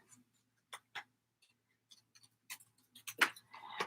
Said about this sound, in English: I just don't want to cut through the tag, but just get close.